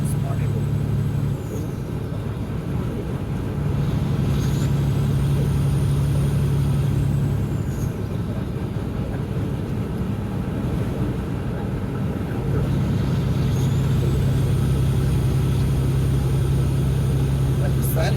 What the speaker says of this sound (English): And there's a lot of traffic already out here this morning.